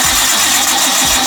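An engine turns over and settles into a steady idle, a loud, continuous mid-pitched drone with a brief dip and recovery partway through.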